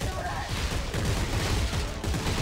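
Rapid gunfire from the sci-fi horror shooter Dead Space 3, a dense, continuous burst of overlapping shots that carries steadily at close range for the whole stretch.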